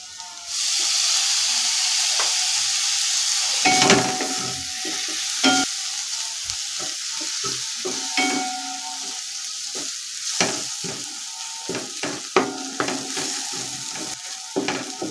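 Spices with garam masala and coriander leaves sauté in a pan for cauliflower curry, a strong sizzle at first that settles into a softer hiss punctuated by sharp spatula scrapes and knocks, close and without talk.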